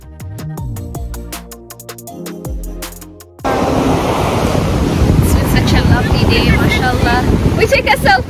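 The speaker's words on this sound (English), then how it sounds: "It was so windy, so I kind of have to do a voiceover here" After a stretch of soft music, loud gusting wind buffets the microphone on a Mombasa beach where a river meets the Indian Ocean, with roaring surf underneath, continuous and close.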